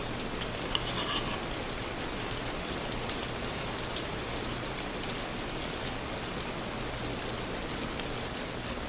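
Steady rain falls throughout, an even, moderately faint hiss of drops on surfaces with no talk over it.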